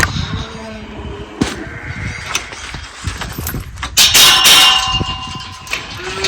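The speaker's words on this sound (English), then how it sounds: "It's not because I like the sound of the bells" Metallic bells clang and ding irregularly at close range on a Maine farm in late winter, with a louder ringing burst midway over a low rustling background.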